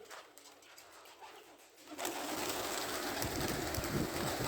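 Pigeons coo softly while eating over a steady rushing background, which grows louder partway through.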